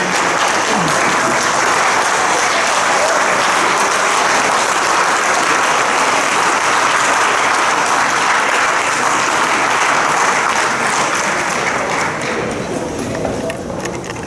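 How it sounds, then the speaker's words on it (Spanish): A union general assembly stands and applauds, a loud, steady wall of crowd clapping that carries through without a break and fades slightly near the end. "yo quiero que nos pongamos de pie y le demos un aplauso a toda esa militancia que todavía está aquí"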